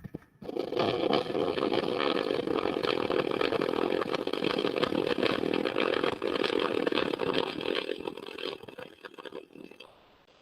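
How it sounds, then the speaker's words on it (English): An arc welder laying a weld during an OEM collision repair demonstration gives a steady, close, crackling hiss that runs unbroken for about eight seconds before tapering off. "And we'll make another weld, see what we look like."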